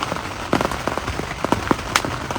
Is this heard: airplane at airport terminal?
no